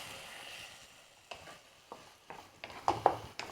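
A thick beetroot and dates pickle is stirred in a pan, with soft scraping and gentle frying sizzle building into a series of quick, closer scrapes and clacks toward the end.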